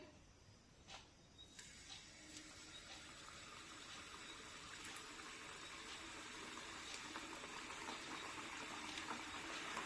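Wheat flour and jaggery kapanya fry in hot oil over a low-to-medium flame, a continuous fizzing sizzle with scattered small pops that slowly grows denser and a little louder, close by and with no speech.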